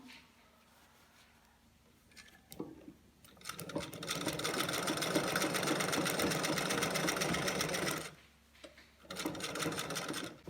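A sewing machine stitches hidden bias binding onto a garment neckline in fast, even bursts, a loud rattling run of several seconds, a pause, then another short run, with a faint voice underneath.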